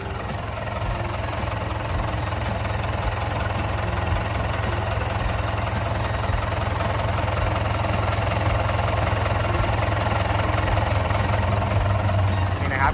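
A Komatsu 4D105 diesel engine in a Komatsu 510 wheel loader idles close by with a steady, rough knocking rumble that runs evenly throughout, without a break.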